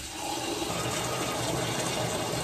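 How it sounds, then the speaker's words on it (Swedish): Water gushes steadily into a container in a horse stable, a dense, even rush that stays loud and unbroken throughout. "Så sen får man fylla på med vatten efterhand."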